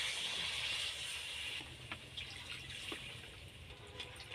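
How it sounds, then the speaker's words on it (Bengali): Water poured into a pot of potol and soybean curry, a soft gushing hiss at first that fades into quieter bubbling and faint clinks, low in level. "এবার ওর মধ্যে আমি 2 বাটি মতো জল দিয়ে দেব।"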